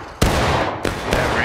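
Three sharp, loud musket cracks ring out in the Civil War game War of Rights, spaced about half a second apart, each trailing into a rumbling echo.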